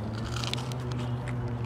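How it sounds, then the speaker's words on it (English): Crisp crunching bites into fried onion rings, a few crackly snaps close to the mic over a low steady hum. "Can you guys hear that crisp? It's so crunchy."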